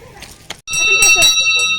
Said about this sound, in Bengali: তো পুচুটাকে দেখলে কি সুন্দর ঘন্টা বাজাচ্ছে